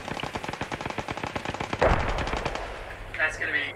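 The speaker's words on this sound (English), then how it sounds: "I got a strafing run coming down." Rapid machine gun bursts from an aircraft strafing run in the World War II shooter Post Scriptum rattle out in a quick series, then a heavier impact and fading rumble follow, with faint game noise after.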